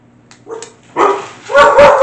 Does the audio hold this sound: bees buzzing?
no